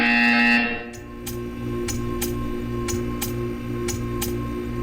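In the video game Portal 2, a loud electronic buzzer tone sounds for about half a second, then cuts off, leaving a droning hum with a regular ticking pulse of about nine clicks.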